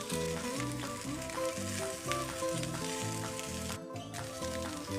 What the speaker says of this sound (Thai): เติมน้ำมันอีกเล็กน้อย แล้วก็เพิ่มไฟนะคะ ทอดให้กรอบนอกนุ่มในเลยค่ะ